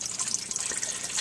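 A small indoor waterfall feature runs with a constant bright splashing trickle, close and fairly loud, steady without breaks.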